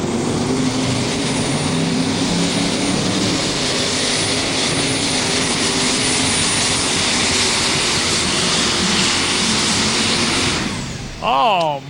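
A super stock pulling tractor at a tractor pull roars continuously at full power, a loud sustained engine drone close by that cuts off near the end, with an announcer talking over it.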